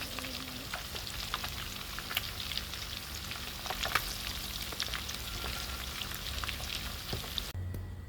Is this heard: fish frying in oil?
yes